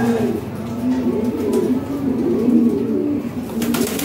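Red Lahori and Bombay pigeons coo close by in soft, repeated rolling calls, with a few faint clicks in the background.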